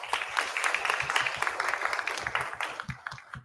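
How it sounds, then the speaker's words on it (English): Audience applause at a school board of education meeting, a steady wash of many hands clapping close by for several seconds before thinning out toward the end. "a round of applause for the work that she put in for the Battle of the Books"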